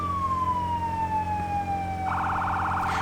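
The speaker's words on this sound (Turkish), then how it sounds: "Sirenler falan çok iyi aga." A video game fire truck siren slowly descends in pitch over a low engine drone, then a rapid electronic pulsing siren pattern cuts in.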